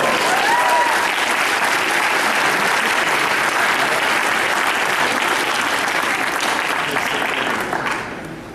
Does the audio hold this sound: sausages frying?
no